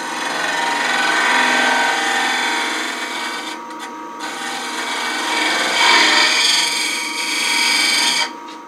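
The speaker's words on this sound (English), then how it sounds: "I'll do a little clean up here with the negative rake scraper to minimize my sanding later, so very light touch, just hitting any tool marks." A negative rake scraper lightly shear-scrapes a wooden goblet spinning on a lathe, giving a steady, close, hissing rasp that swells and fades with brief breaks.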